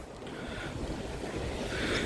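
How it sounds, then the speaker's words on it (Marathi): Sea waves washing against the outside of a coastal fort in Konkan, a continuous broadband roar of surf with gusting wind noise on the microphone, steady and fairly close. "ज्या लाटा मोठ्या मोठ्या येतात"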